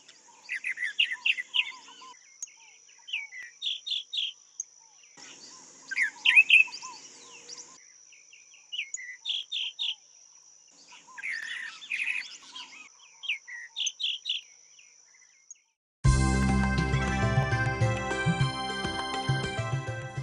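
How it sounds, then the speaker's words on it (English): A tropical mockingbird sings a varied string of bright, repeated chirping phrases outdoors, with a second bird calling in the background over a steady high insect hum; near the end the song gives way to music. "as is the case of this tropical mockingbird, marking its territory with a beautiful concert of notes"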